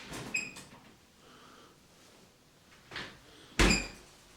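A cleaning cupboard door in a holiday apartment bathroom area opens and shuts, giving a soft creak followed later by a sharper close with a brief thud, all in a quiet room.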